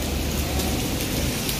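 Heavy rain pours steadily outdoors, a loud continuous hiss of drops hitting surfaces with faint rumbles underneath, no voices over it.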